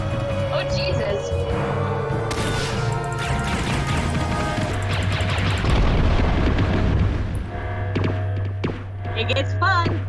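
Missile blasts in We Happy Few: heavy booming crashes and bursts that layer over a constant low game hum, with several loud impacts in quick succession, and voices talking excitedly underneath throughout.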